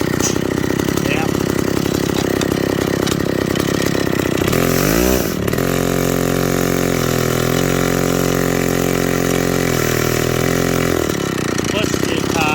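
A McCulloch 250 chainsaw engine, a crusty barn-find being revived, runs loud and close, roughly and steadily, then drops to a lower, even idle with brief throttle blips and a hot clutch.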